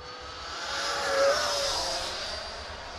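Freewing Avanti S radio-controlled jet with afterburner flying past at evening, a steady whooshing turbine roar that swells briefly as it passes, then holds at a distance.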